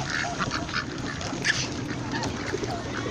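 Ducks quack outdoors at a park in Salta, Argentina, with a few scattered, moderately close calls over steady background noise.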